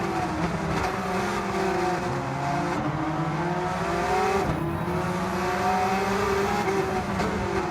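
Gran Turismo 7 race car engine, a Gr.3 car in an online race, drones steadily and loudly throughout with shifting pitch as revs rise and fall, alone without talk.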